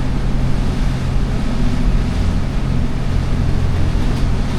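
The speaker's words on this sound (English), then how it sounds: "It's windy, big time." Strong wind buffets a yacht cruising the swampy low country of the Tennessee-Tombigbee Waterway, a steady broadband roar with low engine and water rumble underneath, continuous and loud, with no talking.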